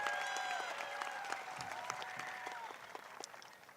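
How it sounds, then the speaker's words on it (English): A graduation crowd at the 2022 DCHS ceremony gives a round of applause for a citizenship honorable mention. It is a faint, distant patter of clapping with a few whistle-like cheers drifting over it, slowly fading. "Let's give a big round of applause"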